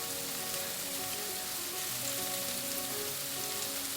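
Carrots being sautéed in a pan give off a continuous dense sizzle, close and even, like light rain on a surface, with no voices over it.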